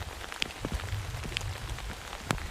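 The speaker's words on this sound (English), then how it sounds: "I just pulled in, started raining" Light rain falls steadily at a Parkway campsite during a thunderstorm, with a few distinct drops tapping nearby over a low rumbling background.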